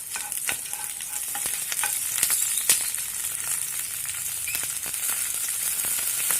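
A spatula stirs eggplant and potato pieces frying in oil in a kadai, giving a steady close sizzle broken by irregular scraping clicks. No one speaks.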